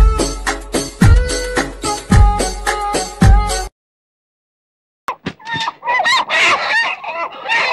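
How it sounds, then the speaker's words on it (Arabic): Chickens cluck and squawk loudly in rapid bursts as they are grabbed, then a brief silence, followed by more frantic flapping and squawking up close. "بنقفش في الفراخ"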